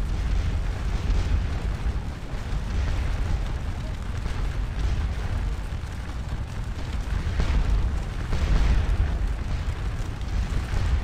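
Massed troops fire volleys in Scourge of War Waterloo, a steady, dense rumble of musketry and cannon-like booms that goes on without a break and swells slightly toward the end.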